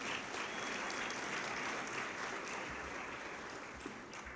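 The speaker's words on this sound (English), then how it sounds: "So give her a round of applause." An audience at a Hispanic Heritage community breakfast applauds with steady, dense clapping that fills the room at moderate volume and tapers slightly toward the end, with no talking over it.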